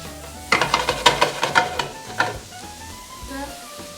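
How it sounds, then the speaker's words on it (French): Endives sizzling in a pan with lemon, a series of sharp crackling stirs and pops for a couple of seconds, then a softer simmering hiss that fades. "Ça mijote bien."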